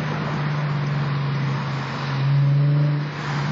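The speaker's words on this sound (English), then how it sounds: "Supercharged 7-liter V8 pushing 700-something horsepower" A Corvette ZR1 with a supercharged 7-liter V8 gives a deep, steady drone close by, swelling briefly louder partway through before easing back, with no voices over it.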